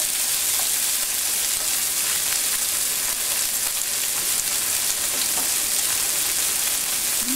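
Diced potatoes and flakes fry in a pan for a samosa chaat, giving a steady, even sizzle with faint crackles. It sounds close and runs throughout, with no talking.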